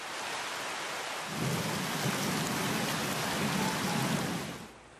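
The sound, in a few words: heavy rain with strong wind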